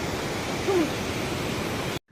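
The Chhomrong Khola river on the Annapurna Base Camp trek in Nepal, a steady rushing wash of flowing water heard at moderate distance, with a brief faint tone partway through and an abrupt cutoff at the end.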